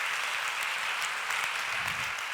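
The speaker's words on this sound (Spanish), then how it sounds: "Un aplauso para él también." A theatre audience claps in steady, dense applause, a continuous bright patter of many hands at an even level throughout, with no speech over it.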